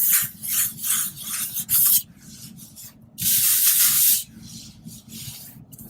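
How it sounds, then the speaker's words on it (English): Close, rhythmic sanding of an ArmourFill drywall patch, bursts of gritty scraping strokes with short pauses between them, no talking. "just slightly sanding this just to knock off the hides"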